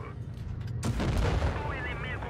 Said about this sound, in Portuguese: o cara tá realmente atirando HE